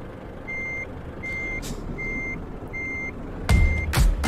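Truck reversing alarm in Euro Truck Simulator 2, a run of evenly spaced single beeps with engine rumble and a couple of sharp air-brake hisses near the end.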